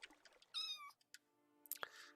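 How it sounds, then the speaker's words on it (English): A house cat meows close by, one drawn-out whining call followed by shorter, fainter chirps and a scrape in an otherwise quiet room. "I hear kitty."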